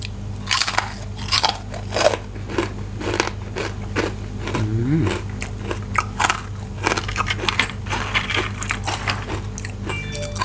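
Crispy baked vegetable chips, pumpkin among them, being bitten and chewed close up, with loud, repeated crunches and crackles in an irregular rhythm over a low steady hum.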